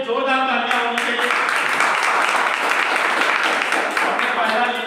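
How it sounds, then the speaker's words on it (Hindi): An audience at a Hindi AWPL product presentation gives a burst of loud, sustained clapping, with a voice speaking over the start and again at the close. "इसके लिए जोरदार तालियां होनी चाहिए।"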